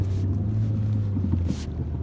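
On a shallow river, an outboard motor hums low and steady as its propeller churns through the shallows. A constant rumble is overlaid with brief bursts of wind buffeting the microphone.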